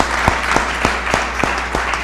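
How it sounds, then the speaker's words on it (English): An audience at a live-streamed panel on energising cities claps in a steady stream, with individual hand claps popping out at regular intervals over a soft crowd background. "I guess both of you get applause"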